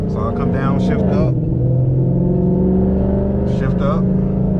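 An automatic car's engine drones steadily and loud, its pitch climbing and dropping as it revs between manually selected upshifts, with a few brief bursts of higher noise.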